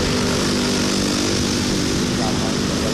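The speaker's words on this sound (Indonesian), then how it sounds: "Lalu lintas sudah ramai." Busy morning street traffic around Tegallega park under renovation, a steady, loud wash of engine and road noise with a voice talking over it.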